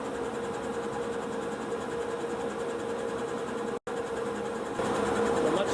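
An exhaust fan in a laser engraving shop runs with a loud, steady droning hum and a constant whine, cutting out for an instant near the end before resuming slightly louder.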